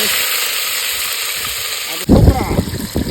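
Ginger dropped into hot oil in a pan outdoors on a farm, a sudden loud sizzle bursting up after a quieter stretch of steady frying hiss, with someone talking nearby.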